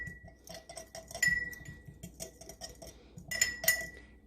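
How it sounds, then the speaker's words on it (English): A metal spoon stirs rehydrating sourdough starter in a glass jar, making quick, rhythmic clinks and taps close by. The clinking comes in two bursts separated by a brief pause. "So I'm just gonna stir this."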